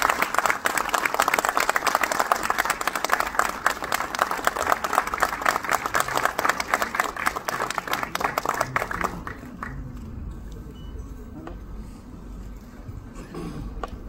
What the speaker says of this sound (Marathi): एका जोरदार टाळ्या झाल्या पाहिजे.